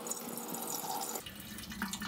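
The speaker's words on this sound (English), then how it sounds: "Pouring some kerosene." Kerosene pours into a motorcycle oil tank during a Shovelhead Lowrider restoration, a faint, brief splashing trickle of liquid heard close up.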